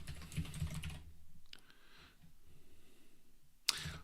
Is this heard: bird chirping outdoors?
no